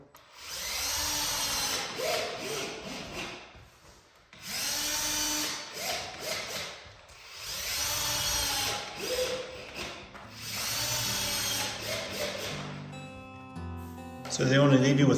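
A power drill drives small structural screws without pre-drilling into a paint-grade wooden stair railing in a tiny house, three long whirring bursts with ratcheting pauses between them, followed by a different rattling mechanical noise at the end.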